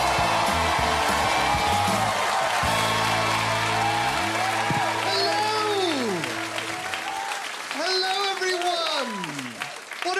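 Audience applause and cheering greet comedian John Robbins as he takes the stage at a stand-up comedy show, a loud sustained crowd wash that runs under a music sting and gradually thins toward the end.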